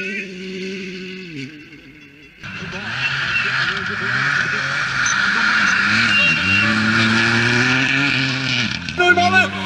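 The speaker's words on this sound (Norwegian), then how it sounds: "han kutter maksimalt, og der, han nå kjører han på grensa, Sebastian Årsi." A WRC rally car races fast at Rallye Sweden 2016 near Torsby, its engine rising and falling through gear changes from near to passing, with a commentator talking over it.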